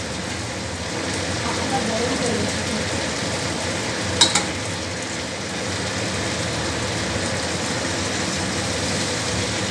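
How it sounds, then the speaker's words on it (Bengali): Mutton braises in a pot after water is added for kosha mangsho, a loud, dense, steady bubbling sizzle throughout with a brief clatter midway. "আমি আর একটু জল দেবো, জল দিয়ে আবার একটু কষে নেব।"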